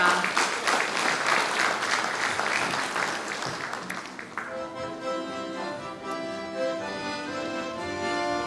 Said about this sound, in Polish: Wielkie brawa, łastwowczata!